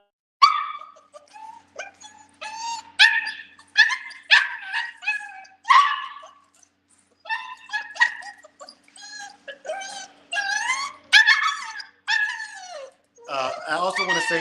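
A high-drive dog in a crate whimpers, yips and barks in quick, repeated bursts at close range, continuing throughout with brief pauses and no talking.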